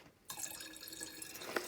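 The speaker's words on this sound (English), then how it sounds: "squeeze out as much as I can, pour it into a jar" Liquid from a reishi mushroom decoction steeped in high-proof grain alcohol is squeezed out, giving a steady wet trickling and dripping that starts abruptly and continues close up, with one sharper splash near the end.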